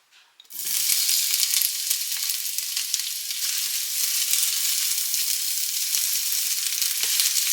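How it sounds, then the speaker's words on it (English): Sliced jalapeño and onion hit a hot pan with a sudden loud sizzle, then fry with a steady, bright crackle that holds evenly to the end, broken only by faint clinks. "I'm going to get this jalapeno and this onion sauteed up."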